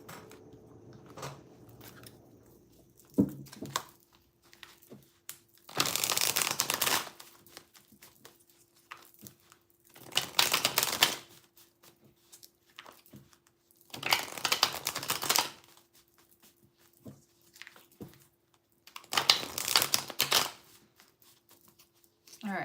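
Tarot cards being shuffled by hand in several separate bursts of riffling, each a few seconds long with quiet gaps between, close and fairly soft with no talking.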